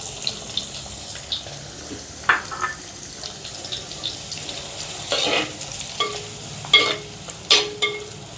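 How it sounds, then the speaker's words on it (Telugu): Chopped onions fry in oil with mustard seeds and cumin, making a low, steady sizzle. Sharp clinks and scrapes from stirring break through it every few seconds, close by and with no talking. "ఇప్పుడు ఈ ఉల్లిపాయ ముక్కల్ని కూడా ఇందులో వేసుకుందాం"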